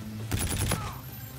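A short, fairly quiet burst of rapid video game gunfire from Call of Duty: Infinite Warfare, a few quick shots in succession.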